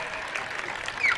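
An audience claps at a comedy show, brief continuous applause at moderate, somewhat distant level with a faint high tone near the end.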